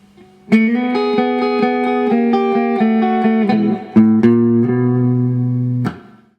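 A guitar rings out a short blues intro turnaround of sustained notes and chords, changing pitch partway through and ending on a final strummed chord, clear and close.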